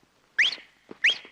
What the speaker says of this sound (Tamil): என்ன இனிமையான விசில்